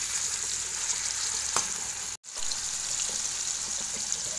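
Paneer pieces frying in hot oil, a steady close hiss of sizzling with a faint clink and a brief dropout midway.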